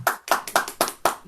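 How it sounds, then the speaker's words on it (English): Clapping comes through a Zoom call as five or six separate bursts, each a sharp attack with a short decay, spaced unevenly and close to the microphone. "clapping does work with Zoom, so if you want to express your appreciation in the usual way"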